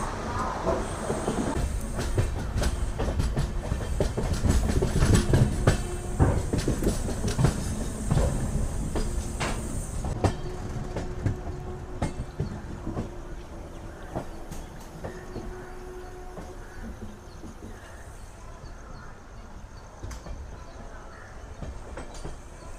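The Satavahana Superfast Express rolls out of Vijayawada Junction on the Howrah–Chennai main line, its wheels clattering and rumbling steadily, loud at first and then fading to a quieter hiss as it runs on.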